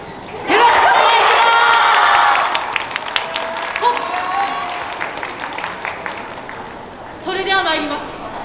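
An audience claps at a university yosakoi dance team's performance at the Kagoshima spring festival, a burst of applause and scattered claps following a voice that calls out over the crowd.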